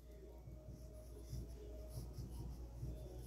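Chalk or marker strokes on a classroom board during a primary-school English lesson, a soft continuous scratching with a few faint taps, quiet beneath a low steady hum.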